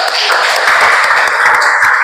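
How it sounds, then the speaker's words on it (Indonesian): A classroom group claps together during a guidance lesson for trainee teachers, a dense, steady patter of many hands filling the whole two seconds at close range. "Oke, luar biasa. Tepuk tangan dulu."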